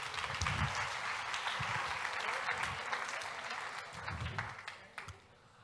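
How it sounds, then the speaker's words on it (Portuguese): Applause from a church congregation, sustained clapping from many hands that swells and then fades toward the end, with a voice speaking over it in places. "Uma salva de palmas para o José Felipe."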